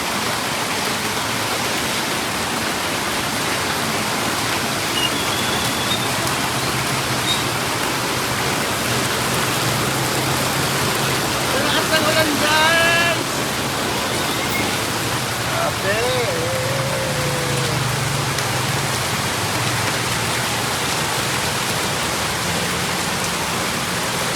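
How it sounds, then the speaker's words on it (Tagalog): A downpour of heavy rain hisses loudly and steadily throughout, with faint voices briefly heard under the roar partway through. "Bumuhos ang ulan."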